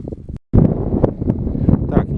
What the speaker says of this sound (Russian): Просто ветер усилился